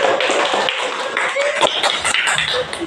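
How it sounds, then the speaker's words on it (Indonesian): Audience applause in a classroom group presentation, a dense patter of clapping hands sustained for a few seconds, fairly close and loud. "Beri aplaus semuanya."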